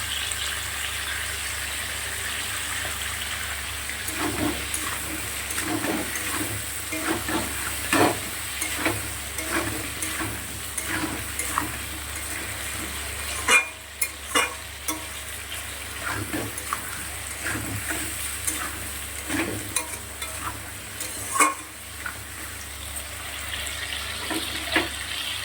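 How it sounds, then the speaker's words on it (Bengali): Chopped Malabar spinach (pui shak) frying in oil with five-spice and salt, a soft continuous sizzle broken by repeated scraping stirs of a spatula, with water running from a tap in the background; no one speaks. "সবজিটা একটু ভালো করে ভেজে নেব।"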